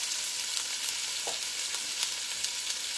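Cut-up smoked pork sausage fries in a pot with a dense, even crackling sizzle, close and continuous, with faint stirring knocks and no voices.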